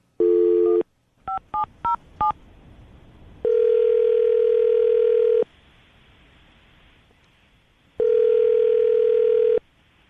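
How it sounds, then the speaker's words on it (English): A steady telephone dial tone sounds, then a quick run of touch-tone dialing beeps, followed by two long ringback tones separated by silence. "we're going to call him right now, see if we can get him on the phone"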